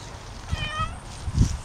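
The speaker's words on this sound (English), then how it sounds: "Yo, I found you a cat." A cat meows once in a short, clear call over a noisy outdoor background with some low thumps, moderately close and with no talk over it.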